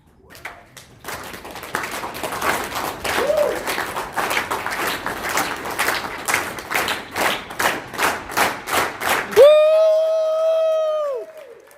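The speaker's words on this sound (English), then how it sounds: "Start me off with the Aquascape clap." A conference audience claps together in a steady rhythm that speeds up into rapid unison claps, ending in a loud, sustained cheer.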